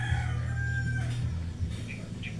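A fighting rooster, a five-time-winner broodcock, crows once in a fairly faint, drawn-out call over low background rumble, followed by a couple of soft clucks.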